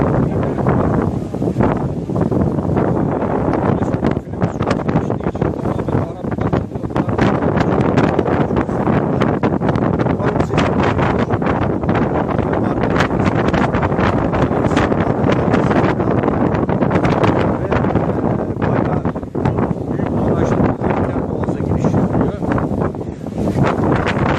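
Steady broadband wind and engine rumble from inside a passenger ferry crossing the Bosphorus from Eminönü to Üsküdar, loud and continuous with buffeting gusts against the microphone.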